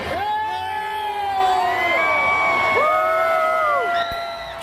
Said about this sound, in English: Steve Aoki arrived to the resounding roar of a really pumped-up crowd